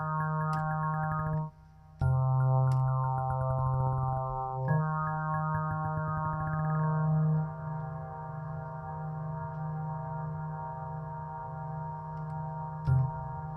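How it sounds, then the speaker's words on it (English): A sustained Hydrasynth synthesizer tone hangs and drones continuously, with harmonic layers smearing into a frozen, endless reverb wash; a few brief bouncing pulses punctuate it. "And I can freeze the reverb."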